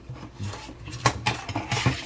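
Dishes and cutlery clink and knock in a sink during hand washing, with chopsticks among the utensils, a series of close, irregular clatters and taps without talk.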